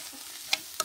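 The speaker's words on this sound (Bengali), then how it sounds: "দিয়ে ভালোভাবে ঠিক এরকম করে আবার নাড়াচাড়া দিয়ে এরকম করে 2 মিনিট ভেজে নেব" Spices frying in a pan sizzle faintly under two quick, sharp clicks of a spoon stirring against the pan.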